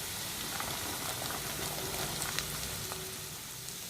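Beetroot frying in a pan gives a steady, close sizzle and bubbling crackle that holds evenly throughout, with scattered small pops and no talking.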